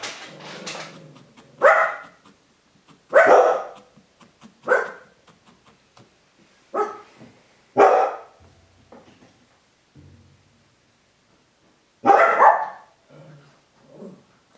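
Dogs bark indoors at roofing work going on outside, a series of loud, separate barks and yips in bursts over about fifteen seconds, with short quiet gaps between them.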